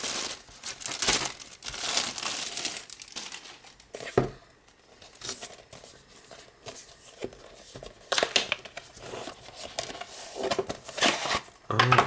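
A fabric sleeve for a Google Nexus 7 tablet is pulled from its packaging, with crinkling plastic and paper rustling in irregular bursts close by, quieter in the middle and busier toward the end.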